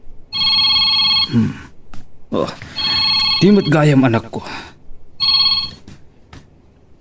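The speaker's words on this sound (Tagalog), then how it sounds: "Adaw mauawag iti cellphone ko." A cellphone rings with a repeating electronic ringtone in bursts, stopping and resuming, while people speak between and over the rings in an Ilocano drama scene.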